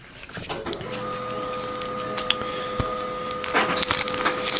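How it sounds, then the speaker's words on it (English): A printer runs steadily indoors with a whirring mechanical hum, punctuated by sharp clicks and the rustle of paper feeding through. "something is printing behind me."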